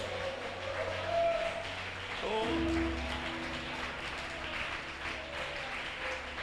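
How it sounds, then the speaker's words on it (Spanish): A church congregation applauds during a sermon, with steady moderate clapping that continues throughout and a brief tonal sound partway through. "dale ese aplauso más fuerte"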